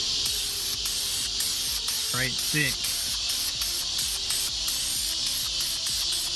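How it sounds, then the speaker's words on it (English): Aerosol clear coat sprayed from a can in short, repeated hissing bursts with brief gaps between them, close and steady, with a few quick spoken words partway through. "Now we're going to test this clear coat out."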